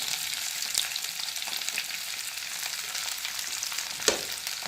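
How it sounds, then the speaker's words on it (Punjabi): Eggs and broken chillies fry in hot oil for a Punjabi egg curry with green coriander, giving a steady close sizzle and crackle with a couple of brief sharper spits, no voices. "ਤੇਲ ਗਰਮ ਹੋ ਗਿਆ ਇਹਦੇ ਵਿੱਚ ਪਾ ਦਿੰਦੇ ਆਪਾਂ ਸਾਰੇ"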